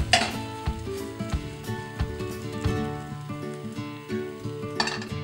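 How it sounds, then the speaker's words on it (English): A gluten-free crêpe sizzling in a hot pan just after being flipped, a steady close frying hiss punctuated by light clinks and scrapes of a spatula against the pan. "taking your spatula underneath your crepe, you're going to flip it."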